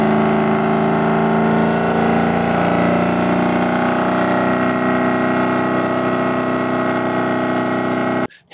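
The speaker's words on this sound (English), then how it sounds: "all I can hear is the sound of an engine revving" A loud, steady engine drones on for several seconds at a constant pitch, a dense mechanical hum with no pauses before it cuts off abruptly at the end.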